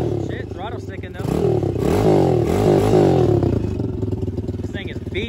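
A battered dirt bike with a sticking throttle, a missing front brake and a clutch that fell off, its engine running and revving loudly up and down at close range, mixed with talking and clattering.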